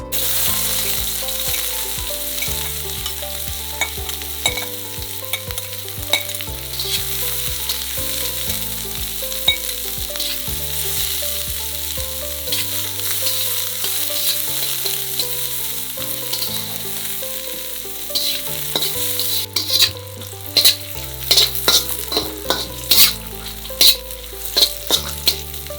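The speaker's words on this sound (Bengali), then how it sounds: "প্রথমে তেলের পরে পেঁয়াজ দিয়ে দিই।" Onions fry in hot oil with a loud, constant sizzle, stirred in bursts of scraping and clatter that grow busier toward the end; no one speaks.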